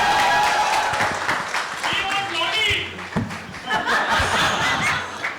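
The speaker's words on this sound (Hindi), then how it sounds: "एक बार जोरदार ताली चाहिए सिद्धार्थ के लिए." An audience at a film success press meet claps for director Siddharth Anand, the applause mixed with chuckles, laughter and voices from the crowd throughout.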